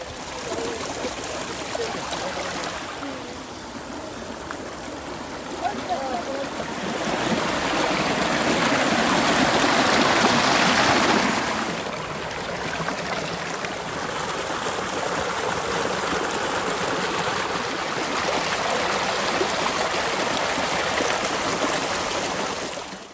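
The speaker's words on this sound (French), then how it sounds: "L'eau de la montagne qui ruisselle" Mountain spring water trickles and gurgles continuously close by in a village, a steady babbling flow that swells briefly louder partway through, with no voices.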